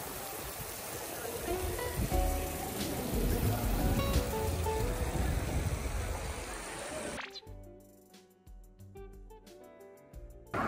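Light rain drizzles steadily over an outdoor open-air movie screening at night, a soft continuous patter and wash that fills the first seven seconds before dropping away to quieter, sparser sound.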